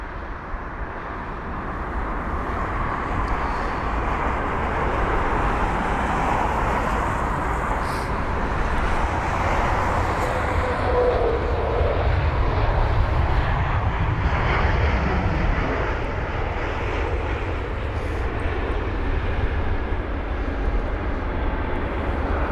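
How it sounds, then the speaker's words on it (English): An Airbus A320 lands at London Heathrow with a loud, steady jet roar that stays at an even level throughout, with no voices. "focusing on the arriving aircraft, here we have it. It's Airbus A320."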